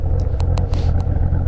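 A 2015 Chevrolet Camaro Z/28 with its LS7 V8 idles nearby, a steady, deep and loud burbling rumble with faint regular ticks riding on top.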